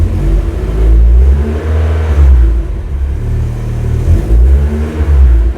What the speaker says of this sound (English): then you can throttle up a bit and then let the pedal go, and the engine should nicely fall back to 800 RPM